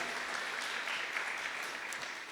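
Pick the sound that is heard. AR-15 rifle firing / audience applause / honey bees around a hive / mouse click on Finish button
audience applause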